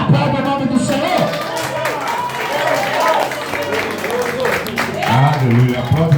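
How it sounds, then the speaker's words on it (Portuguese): A congregation clapping during an evangelical deliverance church service, steady mixed applause running throughout with voices of the crowd and a preacher speaking over it. "aplaude o nome do Senhor"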